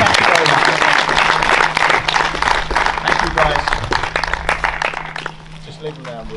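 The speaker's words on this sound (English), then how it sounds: "give her a big round of applause" A congregation at an all-age baptism Sunday church service gives a big round of applause, steady clapping throughout that fades near the end, with voices talking over it.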